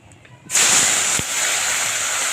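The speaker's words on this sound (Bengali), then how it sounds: "এখন মাছ দিয়ে দেবো" Live chanda puti fish hit hot oil with dry red chilli, bay leaf and cumin, erupting into a loud, sudden, sustained hiss that holds steady, close and alone.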